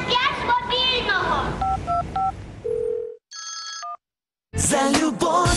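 Telephone dialing tones and a ringing phone in a Ukrainian radio advert for a romantic song request line, a few short beeps and rings between spoken lines and music.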